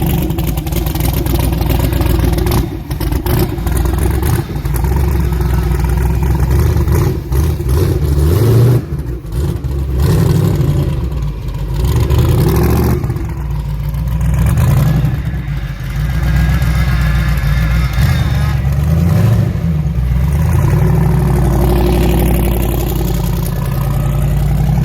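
A twin-turbo LS engine in a G-body car drives on the street, loud and close from start to finish, with a deep throbbing exhaust that rises and falls as the throttle changes and no talk over it.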